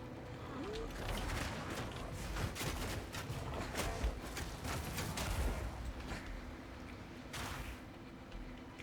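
Repeated sharp blasts and booms from Path of Exile 2 crackle over a busy, noisy background, with bursts scattered throughout from explosions placed on the floor.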